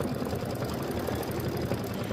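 An embroidery sewing machine stitching a Kimberbell mini quilt vase block runs with a steady, dense mechanical whir and fast rhythmic needle chatter, continuous and close with no pauses.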